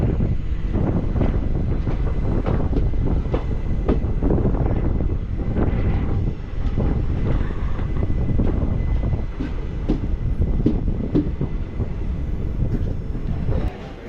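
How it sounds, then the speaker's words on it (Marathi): Steady rumble and rattle of a moving passenger train travelling from Sawantwadi toward Karwar, loud and continuous throughout, with wind buffeting and occasional clanks. "सावंतवाडीवरून निघाली आहे ट्रेन."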